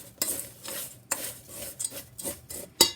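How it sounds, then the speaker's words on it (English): Spoon stirring margarine with Cheez-It crackers in a bowl: several close, gritty scraping strokes in an uneven rhythm, ending in a sharp clink. "we're going to stir our margarine with our CheezITs"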